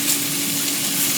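Marinated venison steak sizzles in a hot pan, a dense, steady, close frying hiss that goes on without a break and has no voices over it.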